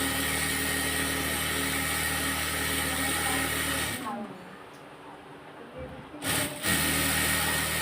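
A sewing machine stitches a salwar with a steady, close, whirring hum for about four seconds, then stops, leaving quieter room noise and a brief bump near the end, with a voice speaking nearby.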